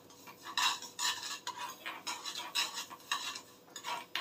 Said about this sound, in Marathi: कंटिन्युअसली हलवत राहायचं।